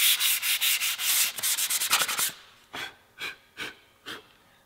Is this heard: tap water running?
no